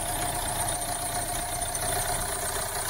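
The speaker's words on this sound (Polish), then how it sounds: "Ale silnik chodzi bardzo ładnie." A Renault Trafic 1.6 dCi diesel van engine with about 380,000 km idles steadily on a cold day, a continuous even rumble with fine mechanical ticking and no talk.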